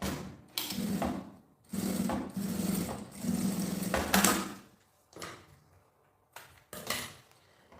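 A sewing machine stitches bias binding onto a small fabric toiletry case in several close bursts of rapid chattering, separated by pauses and quieter handling sounds.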